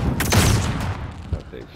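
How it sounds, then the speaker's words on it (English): A flashbang grenade bursts in Call of Duty: Modern Warfare with a sharp, loud blast and ringing decay, followed by a smaller thump, while a player talks over the game audio. "Throwing a flashbang."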